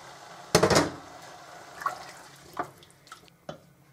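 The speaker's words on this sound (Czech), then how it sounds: "A nalejeme vodu nebo nějaký vývar." Water or broth poured into a cooking pot while making Ostrava-style cacarka with sausage and red pepper, a short loud splashing burst followed by a few fainter drips and trickles.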